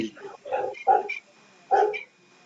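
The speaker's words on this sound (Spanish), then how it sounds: "ay, mi perrito" A small dog barks in three or four sharp, fairly loud yaps close by, with short pauses between them during an indoor lecture.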